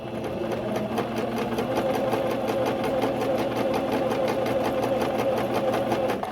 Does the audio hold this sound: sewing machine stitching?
yes